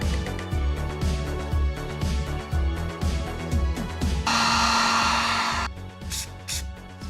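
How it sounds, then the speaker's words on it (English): A heat gun blows hot air in a cold workshop while an AE86/KE70 steering rack crossmember is being modified, a steady hiss of roughly a second and a half rising over background music, then cutting off. "Got the heat gun because it's really"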